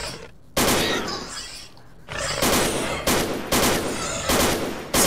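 Video game gunfire rips out in loud, sustained automatic bursts, several long volleys separated by brief pauses, close and dominant with no talking.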